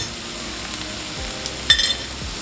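Food sautés in a pan with a soft, steady sizzle, faint and close, with a few light clinks partway through and no voices.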